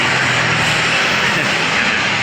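An airplane flies overhead, its engine producing a loud, steady broadband roar that fills the whole stretch without pause.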